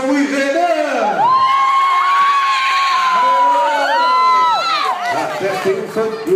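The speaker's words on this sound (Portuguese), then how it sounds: "Quero que vocês recebam com muito carinho, uma salva de palmas" A crowd at a violeiros gathering cheers and shouts loudly for performers Ted Wilson and Renan, with high whoops and excited voices rising and falling over a few seconds.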